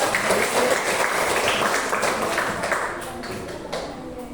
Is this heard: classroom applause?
yes